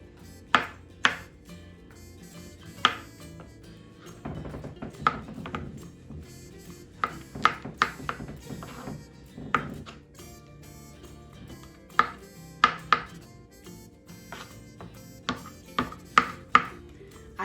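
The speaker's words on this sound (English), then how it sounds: "So now I will dump all of them on my cutting board, and I'm going to chop them." A knife chops mushroom stems on a cutting board, giving a string of sharp, irregular taps, some in quick bursts and others spaced apart, close and clear with no talk.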